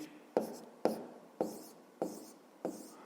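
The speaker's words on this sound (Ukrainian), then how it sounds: "Ну що ж, записуємо третє діє." Pen on paper writing out a math calculation: five distinct scratchy strokes at an even pace, close and clear, with no talking.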